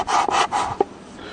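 A sanding stick, a square piece of timber with sandpaper attached, rubs back and forth on wood while a kantele is being made, giving several close, rasping strokes followed by a short tap, with no one talking.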